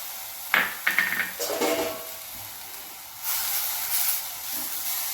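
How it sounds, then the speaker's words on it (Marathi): Grated coconut dropped into a spoonful of hot oil in a pan, giving a few sharp crackles followed by a steady close hiss and sizzle of roasting, with no one speaking. "आता त्याच्यात आपण 1 वाटी खोबरं टाकून घेऊया."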